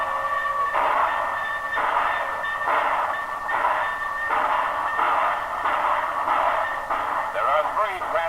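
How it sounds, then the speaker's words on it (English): Trans-Canada Express passenger train pulling out of a station on the Montreal-to-seaboard run, a steady rhythmic pulsing chug at roughly one beat per second, loud and continuous in a dated, muffled-sounding recording. "Trans-Canada Express now leaving on track number 9."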